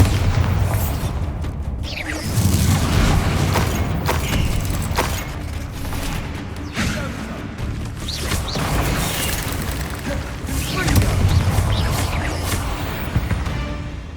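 Bombarda spell explosions in the Hogwarts Legacy video game, repeated heavy booms and crashing bursts with creaks and debris clatter, loud and dense across the whole stretch.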